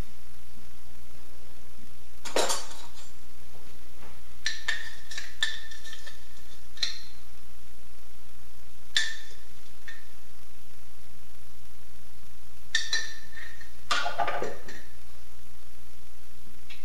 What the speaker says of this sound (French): on va mettre, comme c'est 3 cuillères, une cuillère à soupe dans chaque appareil